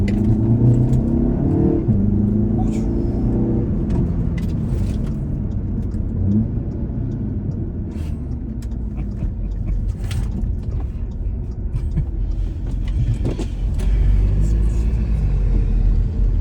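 Audi A3 fitted with an S3 engine swap, driving and accelerating: a steady low engine rumble rises and falls with throttle over road and wind noise, heard from inside the cabin without talk.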